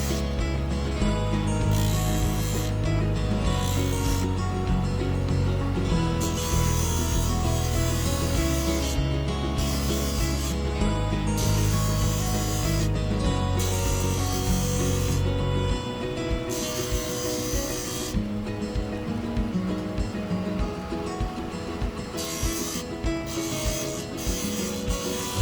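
Sanding a briar pipe into a freehand fugu blowfish shape produces a continuous close, loud grinding rasp, steady throughout, with a lower machine hum shifting partway through.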